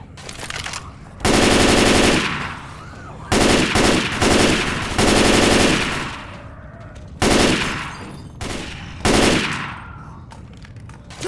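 Bursts of rifle gunfire in the zombie shooter Left 4 Dead 2 on an expert realism campaign, loud and close: a long sustained volley, then several shorter rapid bursts with brief pauses between them.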